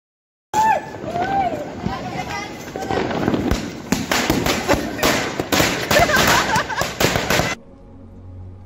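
Diwali fireworks in Ludhiana, Punjab, with anar fountains spraying and firecrackers popping; loud crackling bursts and hissing for several seconds while people talk and shout nearby, then it cuts off abruptly.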